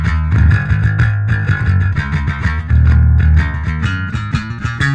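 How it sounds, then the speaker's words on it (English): Electric guitar played hard with a pick or heavy fingerstyle through the low-gain A channel of a Two Notes tube preamp, lightly distorted chords and riffs ringing out loud and close, with no talking. "we can bring that tube to life and get some light distortion in there"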